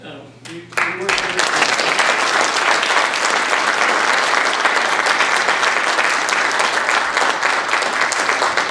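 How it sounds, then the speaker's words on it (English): Applause from a lecture audience at King University bursts in after a brief voice and swells into loud, sustained, dense clapping from many hands that holds steady to the end. "I thought you were going to clap for him"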